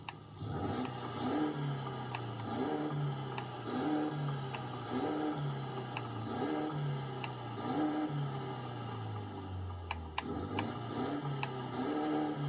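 Pickup truck engines idle in the Forza Horizon racing game, a low rumbling drone that swells and dips in slow regular pulses, close and steady without voices.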